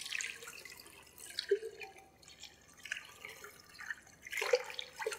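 Cold water is poured and splashed around feet in a foot bath, giving soft, intermittent trickles and small splashes, faint and close, with brief louder pours.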